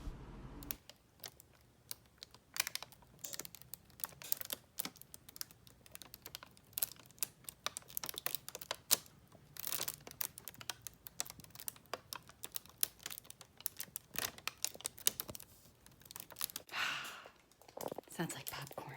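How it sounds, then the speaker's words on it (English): Paper peels away from hot polypropylene plastic in a long run of dry, irregular crackles and ticks, popping like popcorn at close range, with quiet breathy sounds now and then. "I love the sound of paper releasing from the polypropylene."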